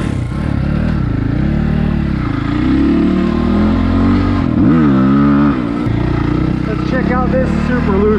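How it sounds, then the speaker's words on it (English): A 2022 SSR SR300 dirt bike fitted with an aftermarket exhaust pipe runs up close, its engine note swelling and dipping through several revs over a rough idle. "this pipe is quite a bit quieter, at least at idle"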